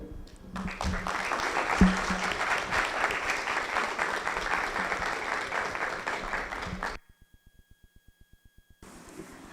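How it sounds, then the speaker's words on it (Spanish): Sustained audience applause at a provincial bicentenary event in La Rioja honoring a deputy, steady and fairly close for several seconds before cutting off abruptly, followed by a short electronic beeping. "Reiteramos el aplauso entonces para el doctor Pedro Oscar Goyochea, diputado."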